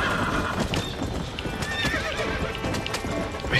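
A horse galloping and neighing during a race in the video game Red Dead Redemption: steady rapid hoofbeats with a whinny rising over them, loud and close throughout.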